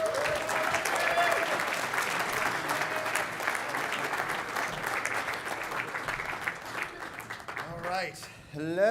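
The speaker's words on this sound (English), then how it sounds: "Please give a round of applause" Applause from the audience at the Ringo Awards comic awards show, a full, even wash of clapping heard at a distance with scattered cheers, tapering off as a voice begins speaking at the close.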